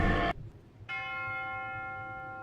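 A church bell of Notre-Dame de Paris strikes twice, the first stroke cut short, the second ringing on with a long, shimmering, clearly heard decay.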